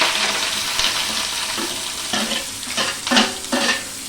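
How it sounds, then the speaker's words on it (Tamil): Mustard seeds splutter and crackle in hot oil in a pan for a dried-fish thokku, a dense continuous sizzle with sharper popping bursts, close and loud. "கடுகு பொரியிட்டோம்"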